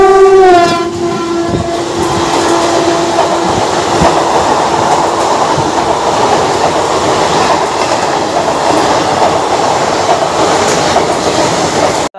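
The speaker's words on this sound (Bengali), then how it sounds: "আমাদের ট্রেন সামনে রেড সিগন্যালের কারণে দাঁড়িয়ে পড়লো পায়রা দেখা রেলওয়ে স্টেশনে" Kolkata–Sairang Express 13125 on its inaugural run: a brief train horn blast at the start gives way to a steady, loud rolling rumble with faint rail clatter, heard from on board.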